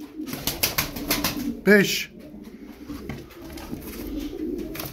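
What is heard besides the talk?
tumbler pigeons cooing in a loft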